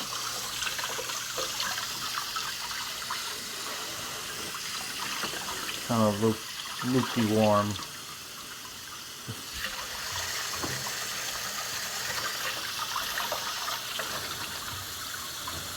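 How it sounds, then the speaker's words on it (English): Water is poured into a container to soak dug-up antique cans for cleaning, a steady broadband running and splashing wash throughout, with a short louder burst partway, and a person briefly speaking over it. "So let's add some more water here."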